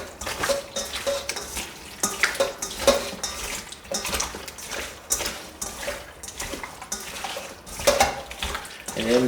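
Chicken pieces being mixed by hand in a bowl for Korean fried chicken, wet squelching and sloshing in irregular bursts with occasional bowl clinks, close and moderately loud.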